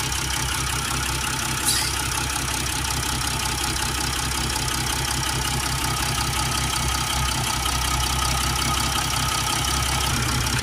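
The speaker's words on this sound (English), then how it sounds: "I'm going to start the engine up and put the rest in." Mercedes GL350 3.0 V6 diesel, with a diesel particulate filter fault, idling steadily in a workshop, a loud continuous low rumble with a constant hum and no talk.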